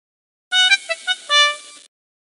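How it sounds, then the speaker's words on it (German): A trombone from a children's PC game, heard as a few sustained, bright brassy notes in a short phrase, clean and alone with no voices. "Die Posaune, ein typisches Blasinstrument."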